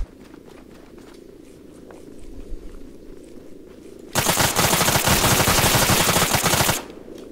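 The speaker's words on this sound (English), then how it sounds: "That's him shooting now by the windmill." An enemy player fires in the video game ARMA 3, a sustained, loud burst of rapid gunfire that lasts a couple of seconds after a quieter stretch of low ambient rumble.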